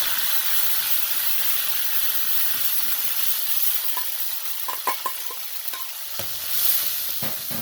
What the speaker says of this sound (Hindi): अब ये गोल्डन होता है तो मैं प्याज डालती हूँ। अच्छा देखिए, हो गया है। अब मैं इसमें वो प्यूरी डाल दी।